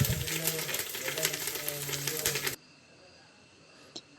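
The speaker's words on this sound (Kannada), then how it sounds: "ಸಾಸಿವೆ ಚೀಟ ಅನ್ನಬೇಕು." Mustard seeds, cumin, turmeric and curry leaves sizzle loudly in hot oil, a dense crackling hiss with popping that stops abruptly partway through, leaving near silence and one faint click.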